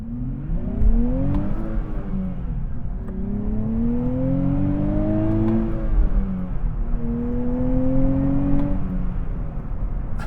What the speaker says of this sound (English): you do get a good mix of engine sound mixed with the exhaust sound